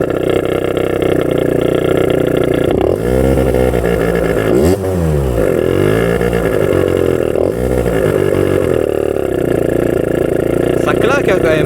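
A scooter fitted with a modified exhaust revs up and down several times over a steady loud idle, its pitch sweeping sharply with each twist of the throttle, close by.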